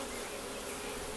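Honey bees buzzing loudly at an opened beehive during a first inspection after being smoked, a dense, continuous, close swarm drone with no other sounds.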